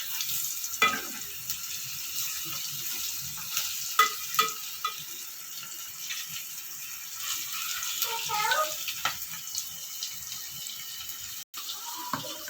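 Flour-coated kombda fish frying in a pan, a soft continuous sizzle with occasional taps and scrapes as pieces are turned, steady and fairly close throughout.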